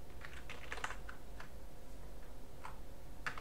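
Someone types on a QWERTY computer keyboard while installing Void Linux. Irregular light key clicks land in small clusters and single taps over a steady background hum, close and fairly quiet, with no speech.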